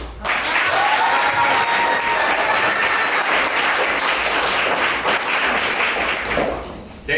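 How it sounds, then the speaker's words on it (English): Applause breaks out at a poetry reception in the Paterson Museum as an audience welcomes a performer to the stage, a loud continuous wash of clapping that swells in, holds steady, then fades toward the end. "Give a warm round of applause for my man,"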